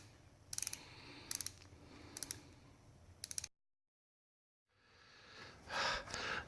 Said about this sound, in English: So ratchet wrench like this, because you don't have much clearance.